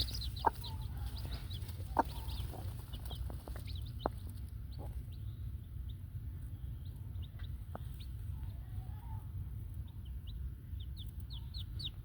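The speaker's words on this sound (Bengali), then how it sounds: "এখন দেখাবো আমার মুরগির বাচ্চা ফুটাইছে" Newly hatched chicks peeping near a hen in a small village farm, rapid high cheeps scattered across the clip over a low background rumble, with a few sharp knocks and soft clucks, no talking.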